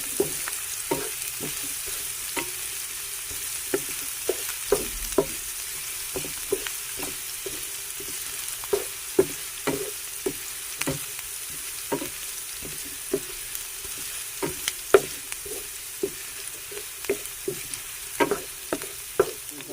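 Garlic, onion and ginger frying in a pan until brown for ginataang langka with shrimp and pork, a soft continuous sizzle broken by frequent sharp spoon clinks and scrapes from stirring, close and with no talking.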